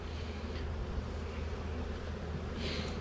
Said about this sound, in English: got plenty of bees in this colony